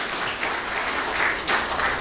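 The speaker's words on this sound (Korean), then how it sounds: "박수 한번 보내주시기 바랍니다." Audience applause at a women's volleyball rookie draft event as team officials are introduced, a broad continuous clapping from a crowd in a hall, even and moderately loud throughout with small swells.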